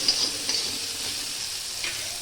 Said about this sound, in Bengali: কুমড়োটা মোটামুটি ভাজা ভাজা হয়েছে